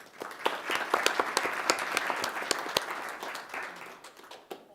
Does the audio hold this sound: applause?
yes